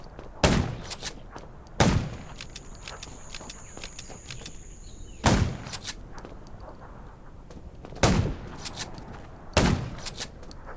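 Several sharp, loud gunshots in the video game Undawn, fired one at a time at irregular intervals, each ringing out briefly over a quiet background.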